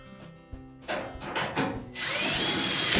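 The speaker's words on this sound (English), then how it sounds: "Tuck that in and then install the retaining screw." A power drill drives in a retaining screw on a Whirlpool dryer. A few short clicks and knocks come first, then the tool spins up into a steady whirring buzz, close and fairly loud.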